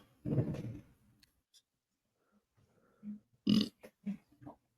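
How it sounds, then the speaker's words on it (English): A loud, drawn-out burp right after gulping water, a long rumbling low belch, then after a pause a few shorter burps and grunts in a cluster, close to the mic. "You ever have one of those burps where you actually throw up in your mouth a little bit?"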